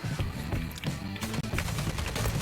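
Video game shooter gunfire rattles in rapid bursts, dense and loud with repeated sharp cracks throughout and no speech.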